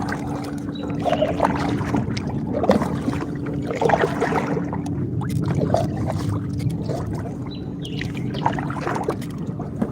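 Paddle strokes dip and swish through the water of the Catawba River from a small boat, with soft trickling drips and faint birds in the open outdoors.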